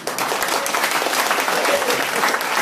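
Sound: audience clapping

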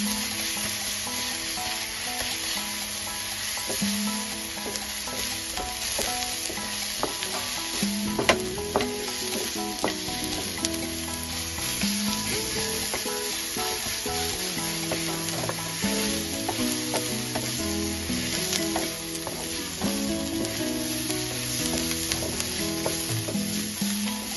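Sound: green masala and turmeric frying and stirring in a pan

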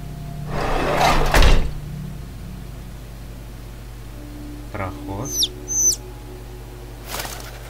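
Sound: frightened bird chirping in a video game

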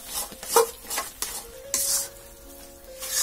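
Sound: spinach curry frying and being stirred in a pan

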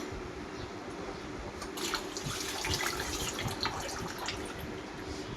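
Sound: washing coriander leaves in water

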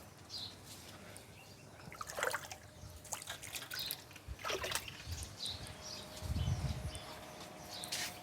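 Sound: water poured into pan while cooking chicken larb

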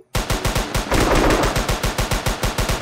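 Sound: gunfire in a WWII video game

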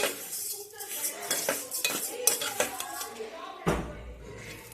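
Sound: stirring and roasting vermicelli in a pan until golden

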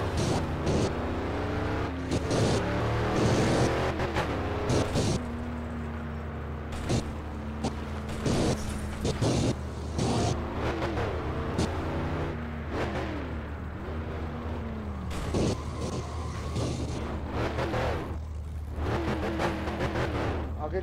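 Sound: car engine starting and running in My Winter Car video game

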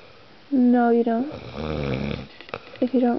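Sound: man snoring loudly

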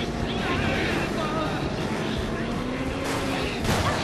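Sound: helicopter in video game Resident Evil 6

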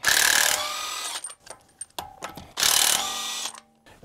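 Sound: impact wrench loosening Range Rover lug nuts with 7/8 inch socket

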